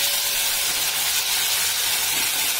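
Asafoetida and vegetables (potato, bitter gourd, lentil dumplings) frying in ghee produce a loud, continuous hissing sizzle, close and unbroken.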